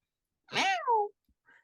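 A cat gives one clear, close meow that rises and then falls, followed by a faint short chirp in an otherwise quiet room.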